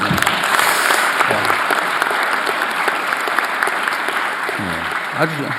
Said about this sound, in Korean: 박수 한번 줘보세요